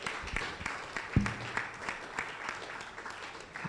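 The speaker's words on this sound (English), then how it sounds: "A resounding clap for the Honorable Minister." Scattered, fairly faint applause from an audience at a post-budget analysis session honoring the Minister of Finance, with uneven claps and a few louder individual hits.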